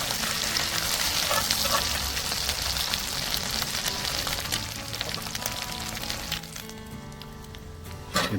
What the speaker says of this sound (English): I'm going to slice it up about 1/3 inch thick. And I'm going to fry it in butter this morning.